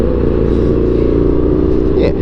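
Indian FTR1200 motorcycle engine running loud and steady out on a road near Geelong, a continuous low rumble with a brief rising rev near the end.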